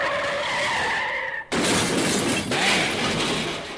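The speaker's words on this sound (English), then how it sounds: "Old lady in a white 4-door sedan meets Ford F-150 pickup truck. Ooh, that's a nasty bang." Car crash between a white 4-door sedan and a Ford F-150 pickup truck, heard up close: a sudden loud impact bang cuts in partway through, followed by a sustained crunching, scraping and glass-shattering wash with no talk.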